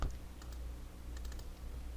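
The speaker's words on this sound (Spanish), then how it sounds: "selecciono con doble clic o presionando la tecla Tab" Computer keyboard keys are tapped while working in an Excel spreadsheet, producing a few quiet, sparse clicks over a steady low hum.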